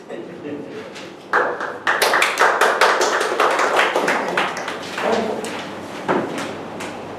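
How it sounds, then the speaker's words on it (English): Clapping from a Toastmasters meeting audience, irregular hand claps starting after a quiet moment and continuing unevenly, with a voice talking underneath. "You can continue applauding"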